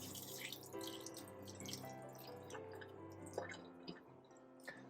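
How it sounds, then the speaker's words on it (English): Faint trickling and dripping as water is poured off a fermented teff injera starter, soft liquid splashes over a low steady background hum with no talk. "you just pour off the water."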